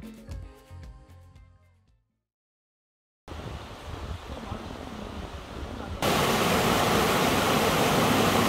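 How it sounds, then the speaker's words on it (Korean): Rushing mountain valley stream on Jirisan beside a steep uphill trail: after a brief burst of music and a moment of silence, a steady broadband wash of water fills the sound, then surges noticeably louder and closer. "지리산 계곡 물소리에 취해서요"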